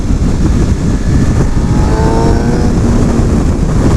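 A 2016 Suzuki GSX-R750 sport bike pulls hard in third gear in its A power mode, its engine a loud, steady, close-up drone with rising tones climbing through the pull, wind rushing over it throughout.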